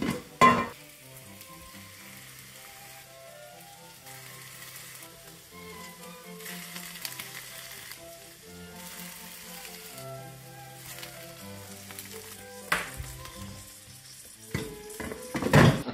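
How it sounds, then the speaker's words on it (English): Bacon sizzling in a frying pan, a steady crackling fry that runs through the whole stretch under a bed of tonal background music, with a couple of louder pops and clatters near the start and end. "We're going to take the bacon and we're going to put it into the frying pan for the time being."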